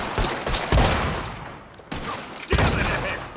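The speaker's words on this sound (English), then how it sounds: "Lots of gunshots." Shootout gunfire from the video game Red Dead Redemption 2, with a rapid fusillade of close, loud gunshots in bursts, a heavy impact near the start and more shots after a short lull.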